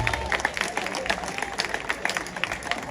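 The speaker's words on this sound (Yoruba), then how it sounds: "ẹ pàtẹ́wọ́ fún Sàrún ẹ bá pàtẹ́wọ́ fún ẹ bá" Audience applauding, steady scattered clapping that runs throughout at moderate volume, with voices mixed in underneath.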